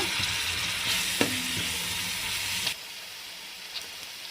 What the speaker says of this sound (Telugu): మసాలా వేసుకున్న తర్వాత ఒక ఫైవ్ మినిట్స్ అలా వేయించుకోండి